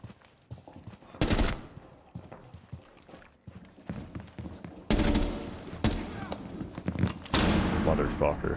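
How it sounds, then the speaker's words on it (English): Gunfire in the video game Rainbow Six Siege comes in several sharp, loud bursts. Quieter footsteps and movement fill the gaps between them. "So I'll just do a little walking around and shooting terrorists just to show what it's kind of like"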